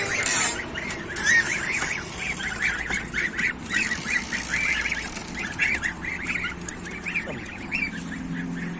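A flock of geese honks repeatedly at close range, a rapid run of loud nasal calls over a busy farmyard background.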